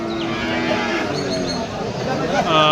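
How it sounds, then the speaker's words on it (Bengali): A large crossbreed cow at a village cattle market in Manikganj gives a loud, close, drawn-out moo, with faint crowd chatter behind it. "এখানে দেখতেছেন বিশাল আকারের একটা ক্রস গরু"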